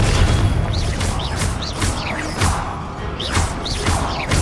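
Rapid fire-blast spell casts in the game Hogwarts Legacy, a loud, dense run of whooshing bursts and booming impacts that repeat roughly every half second against a constant roar of combat.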